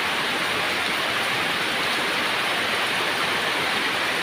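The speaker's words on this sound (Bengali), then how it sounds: "কুমিল্লা বরুড়া থানায় প্রচুর বৃষ্টি পড়তেছে" Heavy rain pours steadily over a rural village in Barura, Cumilla, during the late monsoon season, a dense continuous hiss with no breaks and no voices.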